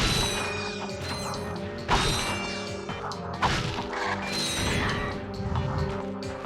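Bolt boxes smashing in Ratchet & Clank, two sharp crash hits ringing out over busy clanking mechanical game effects and background music, loud and dense throughout.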